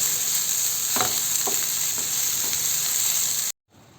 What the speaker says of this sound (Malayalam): അതിനെയും കൂടി നന്നായിട്ട് ഇളക്കി യോജിപ്പിച്ചു കൊടുക്കാം